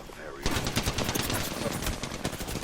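Rapid automatic gunfire from an Apex Legends firefight rattles out in dense, loud bursts, staccato shots overlapping continuously after a brief lead-in.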